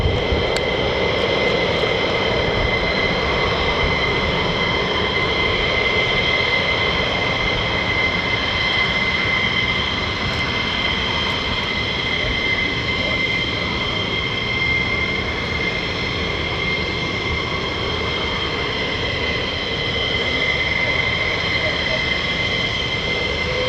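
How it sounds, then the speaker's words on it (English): Fighter jet, an F-15 or F-35, on afterburner takeoff at RAF Lakenheath, a loud, steady roaring rumble with a sustained whine, holding constant throughout. "Time for some afterburners, here we go."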